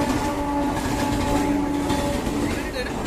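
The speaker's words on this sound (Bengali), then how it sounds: "দেখুন ট্রেন যাচ্ছে," A train rolls past close by, a steady loud rumble with wheel-on-rail noise and a faint high squeal, running continuously through the whole stretch, on a journey toward Howrah in Kolkata.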